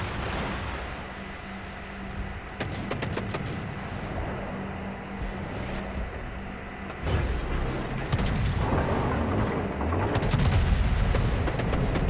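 Heavy battleship gun salvos from the Bismarck in a naval combat video game, deep booming blasts rolling out at intervals over a constant low engine and sea rumble, loud and full.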